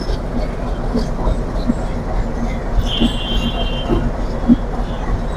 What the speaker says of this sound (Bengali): ট্রেনে এইভাবে ঘুরে যে ট্রেনের ইঞ্জিনটা সম্পূর্ণ ঘুরিয়ে ফেলা হোক